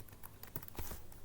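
Typing on a computer keyboard: quick, light clicks in a soft, uneven patter, close and quiet, with no voices.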